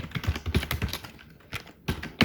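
Rapid keystrokes on a computer keyboard while entering React form code, a close, dry series of taps in uneven bursts with a short pause before a final few clicks.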